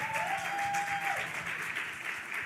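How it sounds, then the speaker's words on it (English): An audience at a community outreach session applauds a speaker with steady, sustained clapping that fills the room, with no voices over it. "Y'all clap it up for Deanna, everybody."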